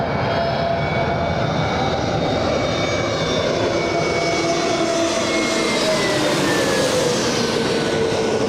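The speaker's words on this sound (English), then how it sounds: "They're flying right overhead and landing directly in front of us on runway" An airliner passes low overhead on approach to runway 24 left at LAX, a loud, steady roar of jet engines with whining tones that slowly shift in pitch, continuous throughout with no talking.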